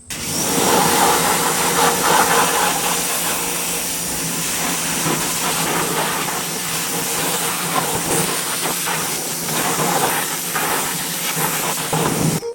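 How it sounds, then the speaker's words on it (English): A pressure washer blasts steadily at cheap car wheels being restored, giving a loud, continuous broadband hiss with a motor drone underneath that holds throughout without a break. "let's go ahead and hit it with the pressure washer, see if everything comes off"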